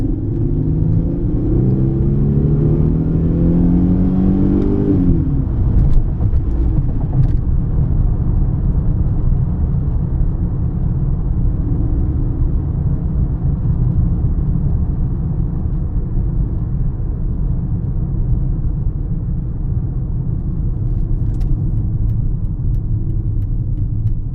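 A Mercedes engine drones loudly from inside the cabin, rising in pitch as it accelerates early on, then settling into a steady road rumble.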